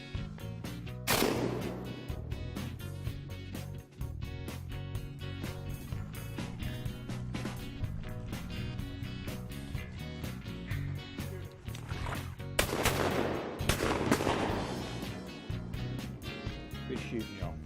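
Shotgun blasts during a Tunica County duck hunt, two loud clusters of sharp reports a few seconds in and again near the end, with talk and outdoor noise between them.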